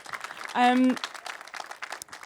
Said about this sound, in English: can we have a quick round of applause, please, for these guys?